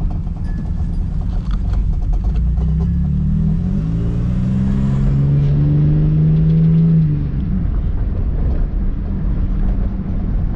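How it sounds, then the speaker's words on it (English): A rough, loud 1996 Impala SS engine idling and rumbling with an uneven, sputtering note from a big hole in the exhaust, steady throughout with a brief rise in pitch midway. "I had that big, big ass hole in the exhaust. It's sputtering, you can hear it."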